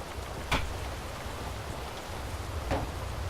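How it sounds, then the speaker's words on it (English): Heavy rain with large fat raindrops falls in a dark video game scene, a steady dense patter throughout, with two sharper heavy drop impacts standing out, and no talking. "Those are some fat ass raindrops."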